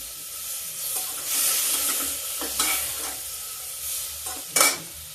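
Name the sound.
green peas and toor dal frying on low flame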